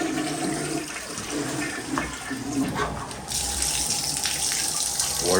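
A household toilet flushes loudly and close, rushing water gushing for several seconds and then surging into a brighter refill hiss, with no voices over it.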